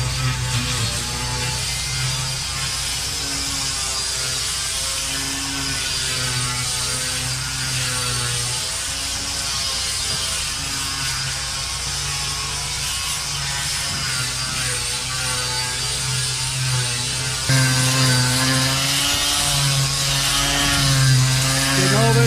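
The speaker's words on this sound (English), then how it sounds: "So we're going to get at it, guys, and start grinding." A power grinder works steadily on the old gel coat of a fibreglass boat hull. It gives a continuous harsh buzz with wavering pitch as the tool shifts and presses, heard close and unbroken throughout.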